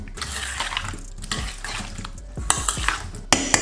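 A spoon stirs a mayonnaise dressing with gherkins and capers in a bowl, making wet, sloppy mixing noises close up, punctuated by several sharp clinks of metal against the bowl.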